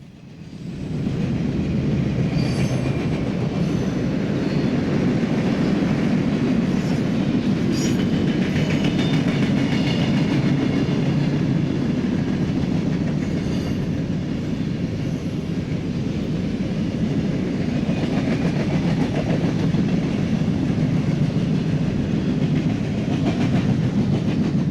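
A 7,900-foot-long freight train of mostly empty cars rolls past, a steady loud rumble with clattering wheel noise and metallic squeals that holds for the whole stretch after a quick swell at the start.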